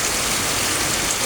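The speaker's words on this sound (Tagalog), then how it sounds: "Tigil mo na yung ulan at tigil mo na yung hangin." Rain and wind make a loud, continuous broadband rush with no voices.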